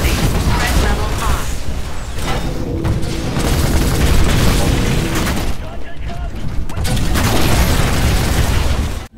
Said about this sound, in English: just a bunch of rockets that go towards your enemy